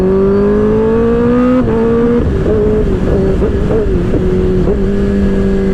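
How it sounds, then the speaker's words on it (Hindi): A loud 2024 Kawasaki ZX-10R superbike exhaust revs steadily, its pitch climbing and dipping through several throttle blips, close and continuous with no voices. "आपको अच्छे से एग्जॉस्ट की आवाज़ सुनाऊंगा"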